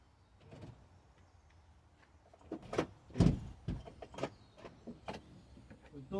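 A Freelander car door mechanism operating, a series of short clicks and whirring actuator bursts at close range, growing louder midway, with no talking.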